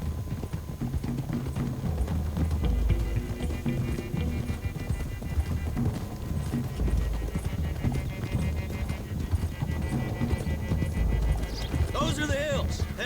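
Rhythmic hoofbeats of horses clip-clopping along a road in Red Dead Redemption 2, under a dense layer of music and game sounds, with a brief whinny near the end.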